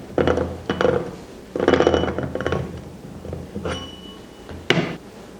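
A rolling pin is pressed and rolled across the rim of a pie pan, trimming off excess pastry dough for a traditional American pumpkin pie; a few close, uneven scraping and clunking bursts come with pauses between them, ending in one sharp knock.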